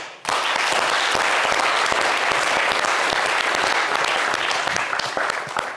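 Studio audience at a talk show bursts into loud, sustained applause, a dense wash of clapping starting abruptly and continuing steadily to the end with no speech over it.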